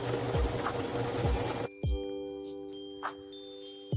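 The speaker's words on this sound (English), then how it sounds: "I sew on a second strip of fabric." Domestic sewing machine stitching fabric strips together for a patchwork quilt made from baby clothes, a close, brief whirring run that stops abruptly, followed by faint clicks and a soft tonal hum.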